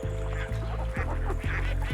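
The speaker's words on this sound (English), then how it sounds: "the mallard ducks." Mallard ducks during courtship display in a forest setting, a close run of nasal honking quacks repeating about every half second, loud and continuous.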